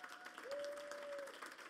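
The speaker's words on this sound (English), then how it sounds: "can we all give them a huge round of applause?" Faint, distant applause from a seated audience at a youth climate-action dialogue event, a soft steady patter of clapping with a thin whistle-like tone briefly rising over it.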